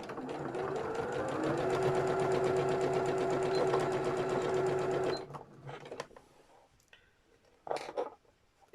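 A sewing machine stitches a zip with a fast, steady mechanical whirr for about five seconds, then stops, followed by a few faint clicks and handling noises.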